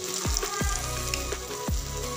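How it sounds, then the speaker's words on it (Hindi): Potato toasts fry in hot oil with a steady, loud sizzle running throughout, broken by a few sharp sliding scrapes at close range. "आप देख सकते हैं ये फ्राई हो रहे हैं।"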